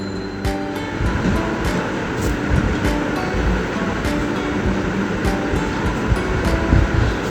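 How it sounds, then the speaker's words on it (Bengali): Moong lentils poured into a hot pan for a Bengali dal with ash gourd, a loud, continuous, roaring sizzle broken by a few sharp ticks of a utensil. "ডালটা ঢেলে দিলাম।"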